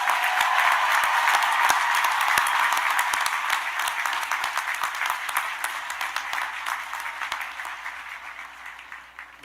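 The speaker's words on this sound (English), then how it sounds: "One more round of applause for the talented Kevin Williamson" A large audience at a university commencement applauds in a dense, sustained roar of clapping that slowly thins and fades toward the end.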